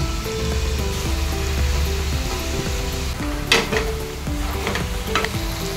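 Mixed vegetables with chuka and methi greens fry in a spiced masala for Maharashtrian bhogi bhaji, a steady close sizzle with clattering stirs and a few sharper scrapes partway through, no talk.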